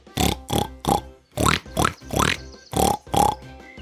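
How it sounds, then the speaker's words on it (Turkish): A pig grunts and oinks in a quick series of about eight short snorting bursts, close by and loud, with brief pauses between them. "Domuzlar böyle ses çıkarır."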